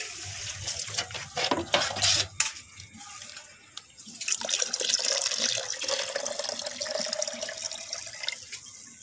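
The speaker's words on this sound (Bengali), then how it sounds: "এবার এইটার মধ্যে আমি পরিমাণ মতো জল দেব" Water is poured by hand into a homemade organic fertilizer mixture, with splashy, uneven bursts at first, then a steadier continuous pouring stream that stays close and fairly loud, with no voices.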